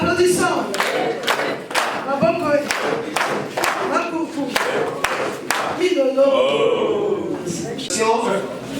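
Audience at a school canteen and refectory inauguration clapping in sharp, fairly regular bursts, mixed with a crowd and a voice speaking over it.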